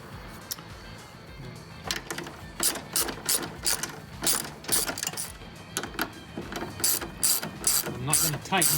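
Rapid ratchet clicking in repeated bursts, close and fairly loud, as 13mm nuts on the upper shock mounts of a 1999 Porsche Boxster are run down, with short pauses between strokes.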